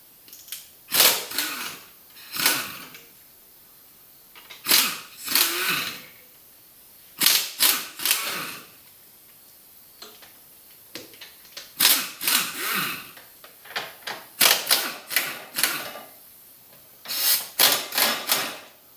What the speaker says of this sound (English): we're going to take off the trans bolts and the motor mount bolts